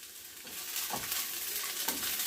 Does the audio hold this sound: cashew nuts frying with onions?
yes